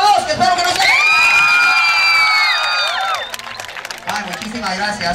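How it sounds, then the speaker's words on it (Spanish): A live crowd at a street football freestyle show in Buenos Aires cheers, whoops and claps loudly and continuously, with children shouting and a voice rising over the noise. "ahora aplauso para el número 2"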